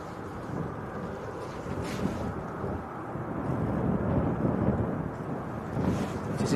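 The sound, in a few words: Virgin heavy jet taxiing out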